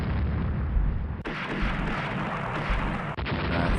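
Naval cruiser guns fire during a battle in the strategy game Rule the Waves, a dense, loud rumble of overlapping artillery booms and explosions broken by abrupt cuts.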